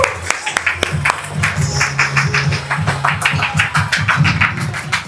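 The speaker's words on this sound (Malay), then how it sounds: "Bagi tepuk tangan untuk diri anda." A seminar audience of real estate negotiators in Malaysia bursts into clapping for themselves, with dense sharp claps spread across the whole stretch at a steady loud level, some voices mixed in.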